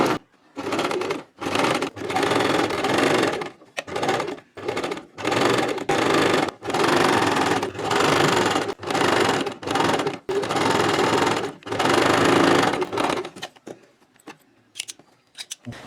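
A sewing machine stitches a designer blouse in many short, close, rapid bursts separated by brief stops, ending in near-quiet with a few faint clicks.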